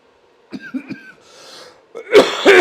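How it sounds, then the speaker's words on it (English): A cyclist coughs after an indoor Zwift race: a few close, sharp coughs and throat-clearing sounds, separated by a short breathy pause, then a louder final burst of coughing. "had I started coughing like this during the race, I would have had to stop"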